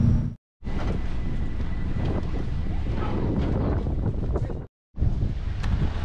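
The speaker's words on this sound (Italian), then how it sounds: "Bel vento, non si sta malissimo qua" Outdoor wind buffeting a microphone in strong, roaring gusts, with two brief total dropouts in the recording.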